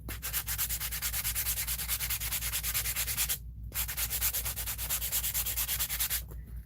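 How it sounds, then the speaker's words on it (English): A cheap block sander is rubbed back and forth across a collage piece in rapid, steady, close strokes with one brief pause, and no one talks. "I use my sander, my block sander."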